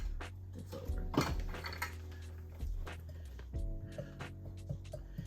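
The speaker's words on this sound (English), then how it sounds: "You want to kind of break up the clumps from the sugar so you can whisk it properly" A whisk clinks and scrapes quickly against a bowl while beating egg with clumpy sugar for apple oat pancakes, close and fairly quiet, with irregular metallic taps.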